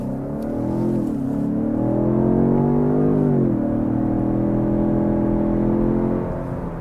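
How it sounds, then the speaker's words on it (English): 2017 Ford Fusion Sport with its V6 engine pulling hard in sport mode, a loud steady drone that rises through the revs, drops briefly at a gear change, then climbs again, heard close from inside the car. "It gives you that nice V6 snarl."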